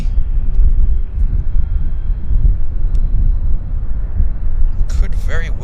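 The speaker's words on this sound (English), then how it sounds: "The Q400 is, let's check it out. This is WestJet, I think." A WestJet Q400 turboprop airliner passes at Vancouver airport, a broad steady low roar that holds throughout, with brief speech near the end.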